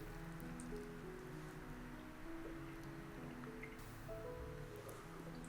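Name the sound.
draining water from boiled potatoes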